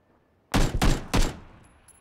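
A rapid burst of gunfire in PUBG Battlegrounds: three loud, close shots in quick succession, each trailing off briefly, with no talk over them.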